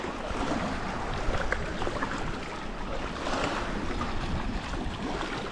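Waves wash onto the beach at a small seaside campsite near Catania, Sicily, as a steady, broad rushing surf with gusty wind noise across the microphone and no voices.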